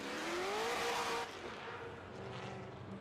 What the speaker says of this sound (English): Stewart in the 800-plus horsepower Corvette